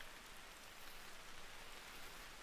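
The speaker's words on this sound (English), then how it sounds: "there's, like, fresh rain falling right now" Steady rain falls in the video game Vintage Story, a continuous even hiss of drops on surfaces that stays soft and distant from start to finish, with no voices.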